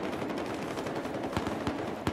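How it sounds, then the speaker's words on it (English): Machine gun fire in Battlefield 4 with a SCAR-H: a distant, rapid stream of muffled shots under busy battlefield noise, with a few louder, closer cracks near the end. "Spotted a hostile machine gunner."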